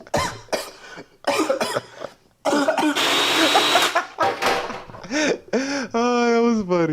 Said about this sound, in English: Oh, you really started coughing.